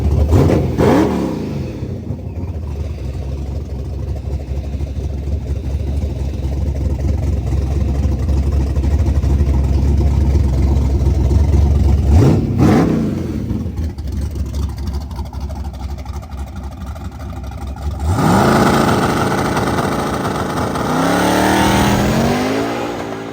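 A pickup truck and a car rev hard side by side in a street-style drag race in New York, loud engine roar building steadily, dropping off, then surging again near the end with no talk.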